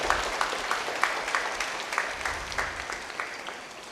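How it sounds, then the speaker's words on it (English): Audience applause at a high school annual day, steady clapping from a large crowd filling the hall and slowly thinning toward the end, with a few sharper claps standing out. "I think we should give a big round of applause to the school"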